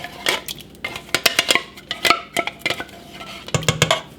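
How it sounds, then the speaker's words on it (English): Rapid metal clatter of a utensil stirring marinara sauce in an Always Pan, a steady series of clinks and scrapes, close and fairly loud with no voices. "I'm going to give that a good stir."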